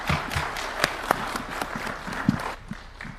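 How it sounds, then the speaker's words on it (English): An audience at a State House event applauds after a presidential speech, with scattered claps and a few sharp individual hits that thin out and fade toward the end. "Another round of applause for His Excellency"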